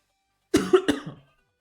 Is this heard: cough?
yes